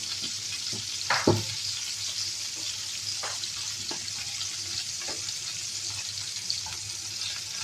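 Steady sizzle of shrimp frying in hot oil, with a few scraping stirs and light clinks over the continuous crackle.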